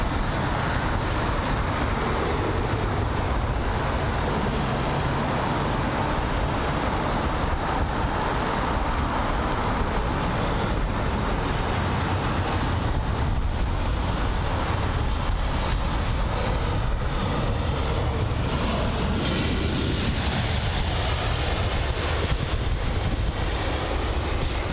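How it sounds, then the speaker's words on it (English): A British Airways Airbus A320-200 arriving at London Heathrow produces a continuous broad engine roar for nearly half a minute, loud and steady with some wind buffeting. "we're going to start off with the British Airways A320-200 that is arriving from"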